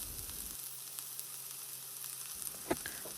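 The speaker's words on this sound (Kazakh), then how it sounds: "Қызып тұрған майға пиязымызды және сәбізімізді салып," Onion and carrot sizzle steadily in hot oil in a pan, a continuous close frying hiss with a brief stir near the end and no talking.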